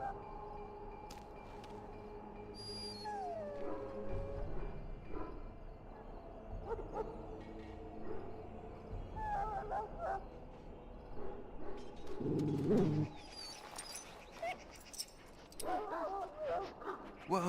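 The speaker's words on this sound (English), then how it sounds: "Now I can treat the dog properly, poor fella." In the video game Dragon Age Origins, a dog whimpers and yips faintly, with short canine whines between swelling music and game sounds.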